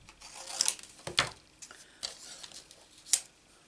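Scissors snip through small scraps of card paper close by, several crisp separate cuts with rustling in between, alone and fairly quiet.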